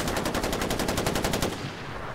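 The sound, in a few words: gunfire in the video game Far Cry 4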